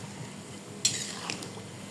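Peanuts frying in hot oil in a pan, stirred with a utensil: a soft background sizzle broken by one sharp scrape-clink and a few lighter stirring taps.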